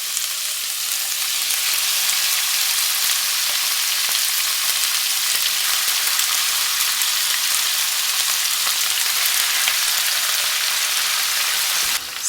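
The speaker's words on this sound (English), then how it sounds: "1 kg of tenderloin cubes going in just to sear" One kilogram of beef tenderloin cubes searing in hot oil with toasted sesame oil, a loud, steady, close sizzle that holds evenly throughout with no talking.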